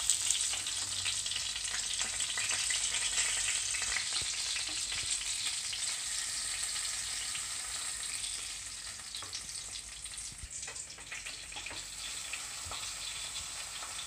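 Fish sizzling and frying in oil in a pan for Kerala-style fish pollichathu, a steady close crackle with occasional spatters and stirring sounds throughout.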